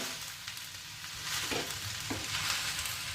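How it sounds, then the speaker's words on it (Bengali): Chicken fried rice crackles and sizzles steadily in a hot pan just after water is added, a continuous close hiss with faint stirring scrapes and no talk. "দেখতে পাচ্ছেন একটা পরপরানি আওয়াজ হচ্ছে জলটা দেওয়ার পরে"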